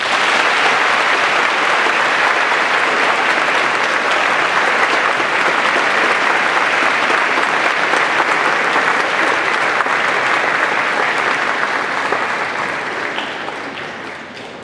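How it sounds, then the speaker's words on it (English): A school Veterans Day crowd breaks into steady, dense applause honoring two military veterans, clapping loudly and evenly throughout before tapering off slightly in the final seconds. "Let's give them a round of applause."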